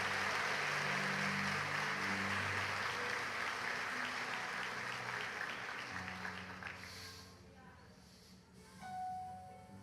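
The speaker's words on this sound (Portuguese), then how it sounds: "dar um forte aplauso a Deus nesta bendita manhã" Congregation applause during a church service, a dense wash of clapping with some voices that gradually thins and fades, ending in quieter room sounds.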